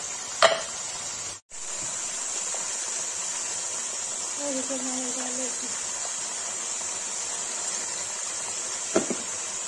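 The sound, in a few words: mutton frying with salt in a pan, being stirred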